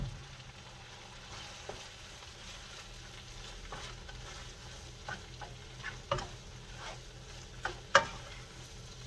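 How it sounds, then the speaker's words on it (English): Onions sautéing in a pan for shepherd's pie, a soft continuous sizzle with occasional sharper ticks and utensil taps, fairly quiet and close. "Those onions are sauteed up."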